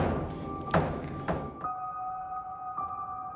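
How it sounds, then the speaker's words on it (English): A door in a London Underground tube tunnel bangs several times with sharp, loud thuds, over a rumbling background and a steady high tonal whine. "I love the noise that the door makes. It's going to bang again."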